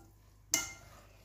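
A salade niçoise is tossed and mixed in a bowl, giving one short, soft rustling swish that fades quickly into quiet.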